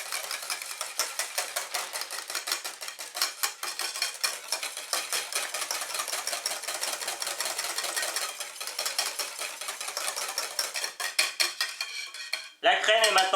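Raspberry cream is mixed in a bowl with a utensil, a quiet, steady run of rhythmic scraping and clinking strokes that continues without pause, with a brief louder knock at the end.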